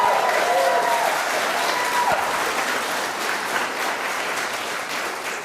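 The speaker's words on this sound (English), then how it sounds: "Let's clap again." A church congregation at a drag-themed service claps together, a dense, loud wash of applause that stays steady and tapers slightly near the end, with faint voices mixed in.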